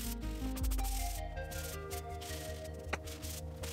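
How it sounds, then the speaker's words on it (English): Steady scratchy rubbing of a 100-grit sanding sponge sanding spackle flush with wood, close and continuous, with a soft rhythmic back-and-forth texture and no voices. "I'm going to use a sanding sponge at 100 grit to go through and sand down the surface"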